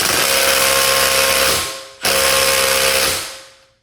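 A Milwaukee M18 Fuel impact driver works on vehicle lug nuts in two loud, close whirring bursts, each winding down as it spins freely, with no talk over it.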